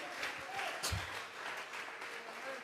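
A church congregation applauds in worship, a steady wash of clapping at moderate distance under faint background voices, with one sharper accent near the start.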